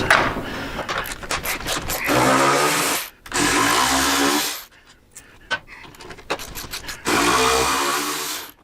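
Rasping ratchet and power-tool bursts while bolts come out of a motorcycle's docking hardware, loud, close runs of grinding whir broken by short pauses and clicks.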